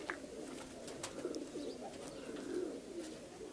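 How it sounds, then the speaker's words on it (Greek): Pigeons coo steadily in crowded lofts, a layered murmur of soft, throaty calls from many birds at once, moderately close, with a few faint chirps above and no talking. "όλα αυτά τα κουμάσια είναι γεμάτο περιστέρια για να βλέπουμε"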